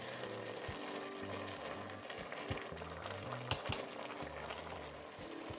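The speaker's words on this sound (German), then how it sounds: "Das braucht hier nur soeben köcheln" Red cabbage simmering in a pot alongside Kassler with bay leaves and a cinnamon stick, giving a steady, close bubbling with soft pops and a low rumble throughout, no talk.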